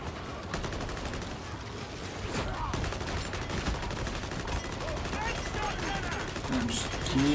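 Rapid gunfire rattles through a Warhammer 40,000: Darktide battle, with dense repeated shots and bursts in a steady stream of combat noise for the whole clip. Voices can be heard under the shooting.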